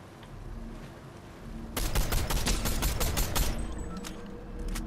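Rapid automatic gunfire in the video game Fortnite, a dense burst of shots that runs steadily for about two seconds and then stops as the weapon runs out of ammunition, with faint game noise before and after.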